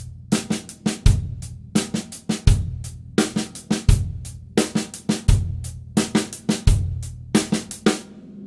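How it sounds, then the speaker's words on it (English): A snare and kick drum groove played on a drum kit as a coordination exercise, with rapid snare strokes over booming kick hits about every 1.4 seconds, loud and close, with no talk. "I'm going to choose exercise N from page 26 on the snare drum set."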